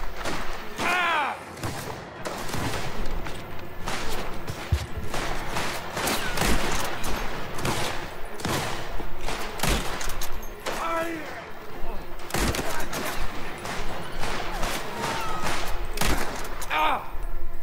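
Rapid gunfire bursts and heavy thuds in the video game Mafia: The Old Country, loud and repeated throughout amid shouting voices and combat noise.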